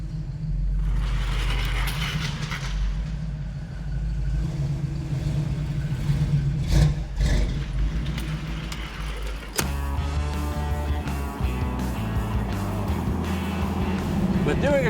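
A Chevy Nova with a small-block engine converted from carburetor to EFI drives along, a steady engine drone with road noise and a shift in tone partway through, while people talk over it.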